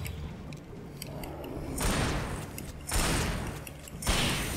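Gunfire in the Alan Wake video game: a few broad, booming shots, each followed by a lingering noisy tail, over faint background game sounds.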